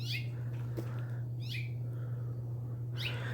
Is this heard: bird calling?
yes